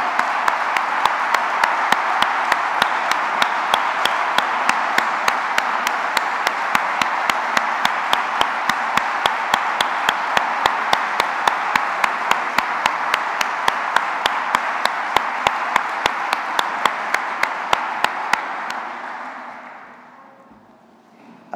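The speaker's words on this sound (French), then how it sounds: "je demanderai à tous de les applaudir chaleureusement" A back-to-school assembly crowd claps warmly to welcome new employees, a long, steady wash of dense applause that holds evenly for most of its length before tapering off and ending abruptly.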